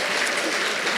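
An audience applauding, a dense steady patter of many hands clapping at once, filling the room without pause.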